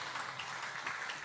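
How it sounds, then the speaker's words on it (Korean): A church congregation applauds the choir, a brief, faint patter of many hands clapping steadily in a large room with no voices over it. "다시 한번 우리 성가대 박수 한번 해주세요."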